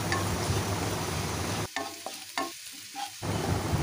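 Radhuni seeds hitting hot oil for a tempering, with a steady crackling sizzle that briefly drops and sputters in short bursts before the continuous frying hiss returns, close and fairly loud.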